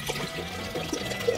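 Water poured from a bottle into a tank: a continuous gurgling splash with glugging pulses as the bottle empties, close and moderately loud, no talk.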